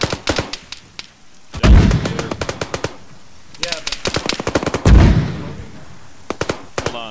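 Rapid machine gun bursts in a combat setting against Russian forces, loud and close, firing in repeated strings of sharp shots with two heavier booming blasts between them and no talk.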